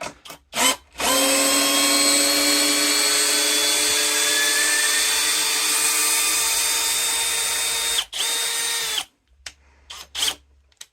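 A Dnipro-M CD-201HBC cordless drill driver runs at first speed in drilling mode, one sustained high whine of about eight seconds that dips briefly and stops, with a few short bursts of trigger pulls before and after.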